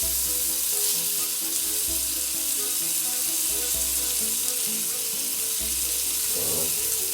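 Butter garlic prawns on skewers sizzle in a pan just after the heat is switched off, a steady, loud, close frying hiss running throughout, with no talking.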